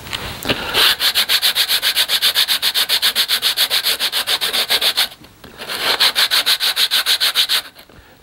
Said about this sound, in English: So we will hit it with some sandpaper.